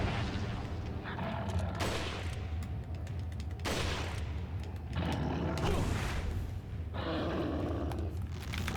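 Repeated gunshots in Resident Evil 4, fired at an enemy that shrugs off the bullets: several heavy blasts spaced a second or two apart over steady game background noise, moderately loud.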